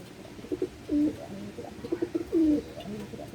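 Soft, repeated cooing of pigeons close by in a loft, low throaty calls in a loose rhythm over a faint background hum.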